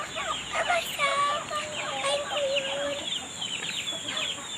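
Tethered native chicken making a string of loud, close clucks and gobbling calls in quick bursts, each sharp and nasal, with faint rural background noise underneath.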